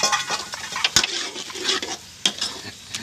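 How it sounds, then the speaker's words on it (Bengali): Lentils (dal) hit a pan of spices and sizzle while a spoon stirs and scrapes the pan. There are a few sharp clinks, and everything sounds close with no speech. "ডালটাকে দিলাম মশলার মধ্যে দিয়ে দে ভোনা করে নিচে সুন্দর করে এখন কষাবো"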